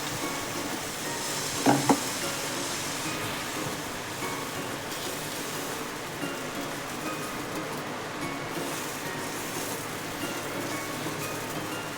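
Dosa batter cooks on a hot pan in a kitchen with a steady, even sizzle throughout, broken once by a brief clatter near the start.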